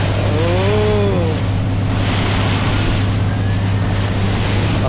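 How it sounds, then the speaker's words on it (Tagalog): A loud, constant boat engine rumble runs beneath wind buffeting and splashing water on rough seas, with a brief rising whine near the start, off Claver, Surigao del Norte. "Lakas ng makina nito."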